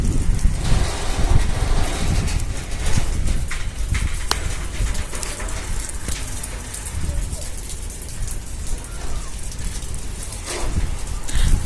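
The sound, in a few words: heavy rain and flood water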